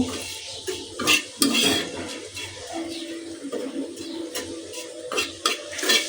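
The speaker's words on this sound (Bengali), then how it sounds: "শুটকিটাকে একটু টেলে নিচ্ছি" Dried fish (shutki) from Cox's Bazar is dry-roasted in a pan, with a spoon scraping and clinking against the metal in irregular strokes and a few sharper knocks, close by and with no talk.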